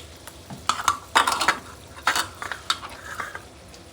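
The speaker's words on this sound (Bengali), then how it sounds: "এখন আমি এটা তেলে দিয়ে দিব। তেলটা আমার একটু গরম হয়ে গেছে।" Thin pitha batter drops into hot oil, bursting into loud crackling sizzles in a few separate surges, each dying down before the next, close by with no talk.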